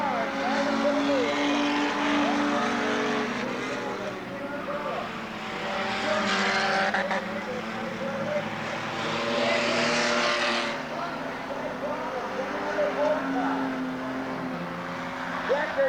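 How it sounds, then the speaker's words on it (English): Race cars roar around the Talladega short track in a close four-car fight for the lead, a loud, continuous engine drone that swells and fades as the pack passes, with a commentator talking over it. "We got 4 cars driving for the lead."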